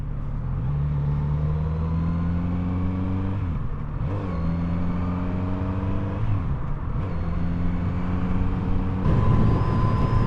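A Kawasaki Z900RS Cafe motorcycle engine climbing through the gears, revving up steadily, dropping briefly at each shift, then pulling again, loud and close.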